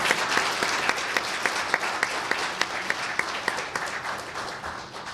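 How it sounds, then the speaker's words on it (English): Crowd applause at an environmental leadership awards ceremony, a steady patter of many hands clapping together with a few sharper claps standing out, sustained for several seconds. "Let's give them a nice round of applause."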